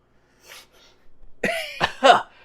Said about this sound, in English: It's making me cough a little bit.